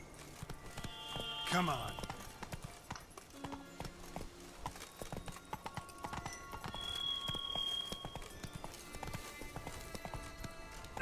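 Roach, the horse in The Witcher 3, gallops with rapid rhythmic hoofbeats mixed with game sounds and a brief whinny, while someone says a few words over it.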